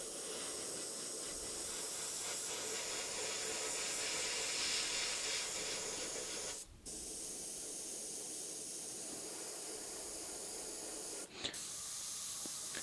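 An airbrush sprays thinned paint in a steady, close hiss that runs almost the whole time, broken by two short pauses, with no voices.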